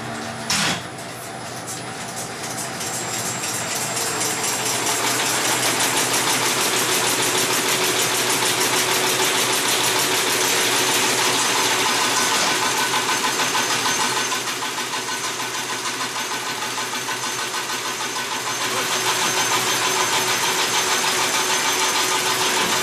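A taffy batch roller and rope sizer machine runs with a loud, steady mechanical hum and rattle that barely changes throughout, with no talk.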